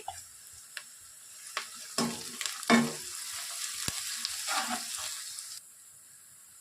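Onions fry in a pan with cardamom pods while being stirred, giving a moderate sizzle broken by scraping and tapping strokes at irregular intervals, then the sound drops to near quiet at the end; no talking.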